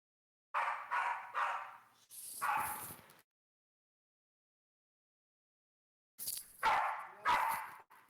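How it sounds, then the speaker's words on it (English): A pair of dogs bark in a short volley of four loud, close yaps, then go silent for about three seconds before another burst of three or four barks rings out, with no voices over them. "I was just listening to the dogs"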